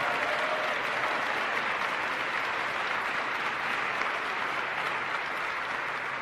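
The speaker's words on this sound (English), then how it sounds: "Would you all mind giving the 24th United States Secretary of the Air Force, an 11-year veteran of the Air Force, another round of applause?" An audience at an Air Force base applauds the Secretary of the Air Force with a steady, even roar of many hands clapping. It holds at constant strength throughout and sounds slightly distant.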